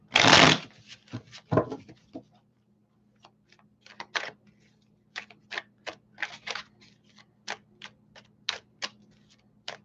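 Tarot cards are riffled in a loud burst, then a string of quick, crisp card snaps and taps follows at an uneven rhythm, close up.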